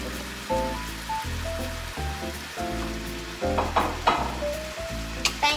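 Pineapple and onion stir-fried in a hot pan give a continuous sizzle, broken by the scrape and clatter of stirring, close and fairly loud with no talking.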